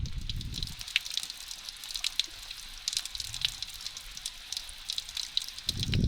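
Steady rain falls outdoors in the Thai countryside, a soft continuous patter of drops with scattered louder ticks on nearby surfaces, heard alone at moderate distance with a low rumble at the start and end.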